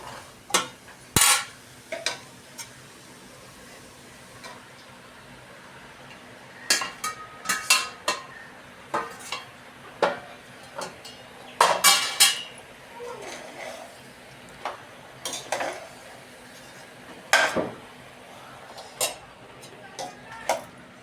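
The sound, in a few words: adding pasta into pan with sauce, pot and utensil clatter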